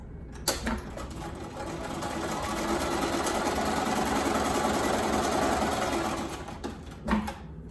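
A domestic sewing machine stitches quilt block pieces together for a patchwork pumpkin block, a fast, even mechanical whirr that spins up after a brief clack, runs steadily for several seconds, then slows and stops with a couple of clicks.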